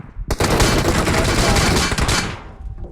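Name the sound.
gunfire in a mobile battle royale video game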